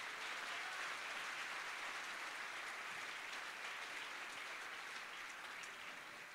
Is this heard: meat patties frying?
no